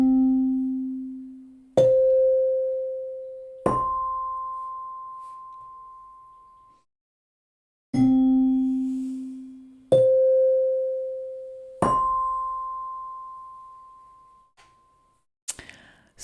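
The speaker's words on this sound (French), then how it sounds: "vous avez la chance d'entendre la cloche, le clocher de mon église" Church bell tones from a village steeple strike in a repeating rising three-note pattern. Each clear, ringing note decays slowly, and the sequence plays twice with no talk.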